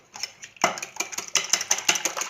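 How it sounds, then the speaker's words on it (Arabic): Eggs and other quiche filling ingredients being mixed in a bowl, a series of quick clinking utensil strokes against the dish in an uneven rhythm, close and fairly quiet, with no talk. "نخلط هاد العناصر مزيان ونرجع لكم"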